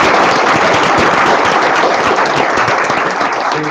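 Audience applause at a school board meeting, a loud, dense burst of many hands clapping continuously, with no voices over it.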